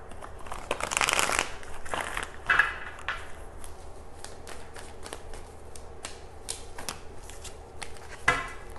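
A deck of tarot cards being shuffled up close, with a dense riffling burst at the start followed by softer card slides and taps, and no talking.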